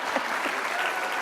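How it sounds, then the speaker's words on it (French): Brief burst of audience applause after a pitch presentation, a dense wash of clapping with faint voices mixed in. "Vous pouvez m'applaudir?"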